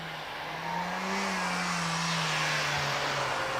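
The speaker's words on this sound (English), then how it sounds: "Off the line goes the MX-5 of Ed Cottam" A Mazda MX-5 race car pulls away from the start line at a British Championship hillclimb, a steady engine drone building as it accelerates, set against broad crowd and outdoor noise with no speech.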